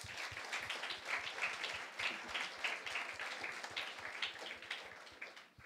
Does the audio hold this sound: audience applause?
yes